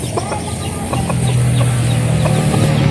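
A native hen clucks close by near newly hatched chicks, giving a run of short, repeated clucks over a low, steady hum of farmyard background.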